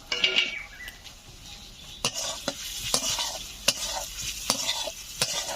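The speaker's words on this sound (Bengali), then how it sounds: "মশলার সঙ্গে ডিম আরো কিছু সময় কষে নিয়েছি" Fried eggs cook in spice paste in a pan, a soft sizzle running underneath while sharp spatula scrapes and knocks come every second or so.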